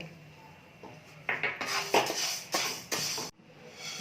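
Red rice dry-roasting in a pan: a run of rattling, scraping stirring strokes that builds up, pulses for a couple of seconds and then cuts off abruptly, heard up close without talking.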